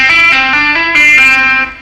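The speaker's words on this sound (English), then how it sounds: "another legato lick that I use involves some sliding with your first finger" A distorted electric rock guitar plays a fast legato run of smoothly connected notes through effects, bright and saturated, alone without speech.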